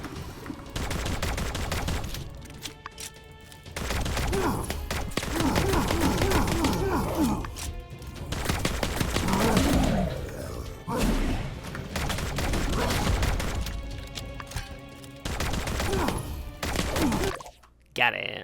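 Pistol gunshots fire in My Time at Sandrock, sharp cracks arriving in irregular bursts amid game music and other in-game sounds, with people talking over much of it.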